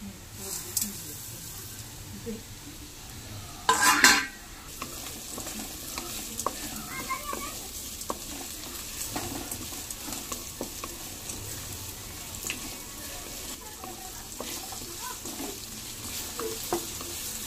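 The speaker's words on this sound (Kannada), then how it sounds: "ಇದನ್ನೇನು ಫ್ರೈ ಮಾಡ್ಬೇಕು ಎಂದು ಎಣ್ಣೆ ನೆಕ್ಕೆ ಪಾದು ಫ್ರೈ ಮಾಡ್ಬೇಕು" Cumin seeds and coriander sizzle in hot oil as a Mangalorean chicken gravy gets started, with a steady quiet frying hiss and a brief louder scrape of stirring early on, faint talk now and then.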